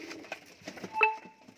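Dabb pigeons kept for sale coo in short soft bursts, fairly close and faint, with a few brief chirpy notes in between.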